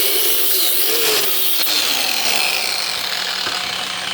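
A saw cuts steadily through the metal frame of a VW Rabbit pickup, giving a loud, continuous rasping grind up close with a faint shifting whine and no talking.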